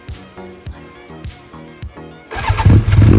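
A Yamaha R1 with a Yoshimura RS3 exhaust is cold-started. The starter motor cranks in a rhythmic, whirring sequence for about two seconds, then the engine catches and settles into a loud, close, throaty idle.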